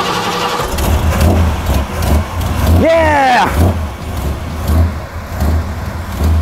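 A modified car engine starts and revs in a swelling, rising burst over a rumbling idle, with a person cheering.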